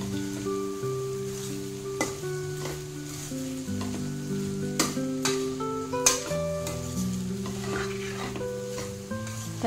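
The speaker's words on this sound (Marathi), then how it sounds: "तर असं व्यवस्थित परतून झालं की हा शिजवलेला पास्ता यामध्ये घालायचा" Cooked pasta and vegetables are stir-fried in a pan, with a soft sizzle and scattered scraping clicks of a spoon over a steady musical tone in the background.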